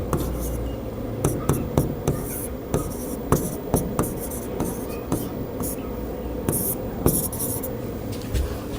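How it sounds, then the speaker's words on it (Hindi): A formula for roots of a quadratic equation is written by hand, pen scratching in short irregular strokes, close and fairly steady, with a voice faintly underneath. "देखिएगा साइड में लिख दे रहे फार्मूला।"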